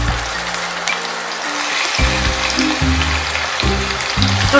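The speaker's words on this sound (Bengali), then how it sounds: "এবারে প্রথমে চিকেনগুলো আমি ভেজে নেব" Chicken pieces sizzle and crackle in hot oil in a home kitchen pan for a dhaniya chicken dish. The frying is steady and close, with low humming tones in the background and no speech.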